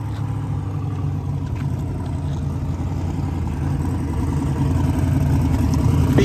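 A drag race car engine idles and revs nearby at a TX2K event, a continuous low rumble that builds gradually with slight unevenness and no voices.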